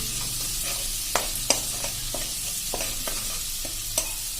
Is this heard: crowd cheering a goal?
no